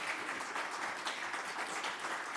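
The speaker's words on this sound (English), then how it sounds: "Can we give them all another round of applause?" Brief, even applause from a community safety summit audience thanking panelists, a continuous wash of many hands clapping at moderate distance.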